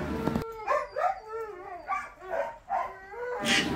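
Sled dogs at a dog sledding camp in Skagway, Alaska bark, yip and howl excitedly in a close, overlapping chorus after a brief noisy start, with rising and falling howls running through the whole stretch.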